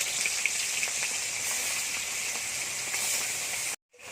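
Hilsa fish frying in hot mustard oil in a pan: a continuous bright sizzle and crackle, steady and close, with a brief break just before the end.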